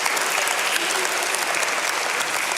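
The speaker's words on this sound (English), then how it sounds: "Can I give all my helpers a big round of applause?" A crowd at an Easter Sunday church gathering gives its helpers a brief, dense round of applause, steady clapping from many hands throughout with no break.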